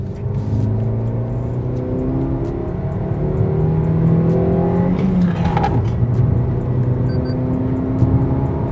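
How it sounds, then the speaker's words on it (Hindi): A Maruti Fronx's 1.2-litre DualJet VVT engine revs hard toward 5000 rpm, its pitch climbing steadily and loudly as it accelerates, with no talking over the droning motor. "Raving till 5000 RPM, let's go."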